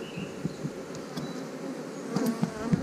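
Honeybees at a hive that has gone into swarm mode buzz in a steady, close insect drone with faint flicks and rustles.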